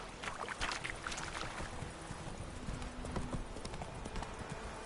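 Roach the horse galloping in The Witcher video game, a steady rapid clip-clop of hooves over a constant wash of ambient game noise, no talking.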